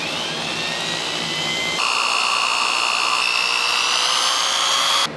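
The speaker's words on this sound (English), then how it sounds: "I'm going to do that with wire brush. I got brass wire brushes here." Brass wire brush, likely spun by a power tool, cleaning motorcycle engine valves and seats, heard as a continuous loud high-pitched whine and hiss that steps up in intensity partway through, then cuts off.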